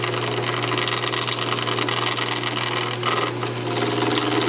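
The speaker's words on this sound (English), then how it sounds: "Just go ahead and use a roughing gouge." A roughing gouge turns a cocobolo wood duck call blank held on a pin chuck on a lathe, giving a continuous loud scraping hiss over the steady motor hum, with no talking.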